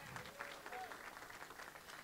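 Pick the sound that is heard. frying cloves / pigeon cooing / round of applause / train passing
round of applause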